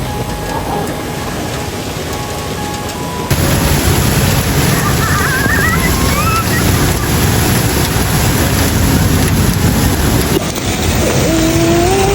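Heavy rain pours down steadily in Karachi, a dense, loud broadband wash that continues throughout with no pause, mixed with splashing water and faint background sounds.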